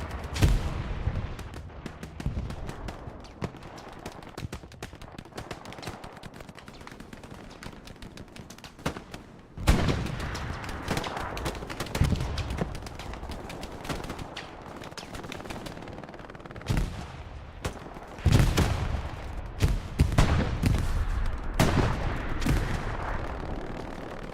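Jet aircraft cannons firing in the Hell Let Loose video game, heard as dense, rapid bursts of gunfire that come in repeated loud volleys amid constant battlefield shooting.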